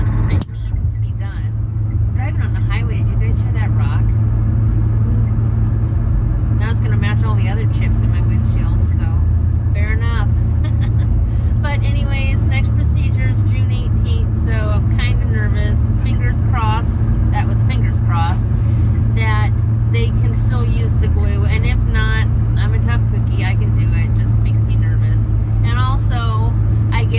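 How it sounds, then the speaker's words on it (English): Car cruising on a highway, heard from inside as a steady, loud low rumble of engine and road noise throughout, with a person talking over it. "I'm driving on the highway."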